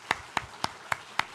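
Five slow, evenly spaced hand claps, sharp and fairly quiet in a church welcome, with no talking.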